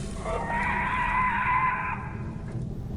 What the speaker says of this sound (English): a sound emerged that was part scream, part hunger, and entirely inhuman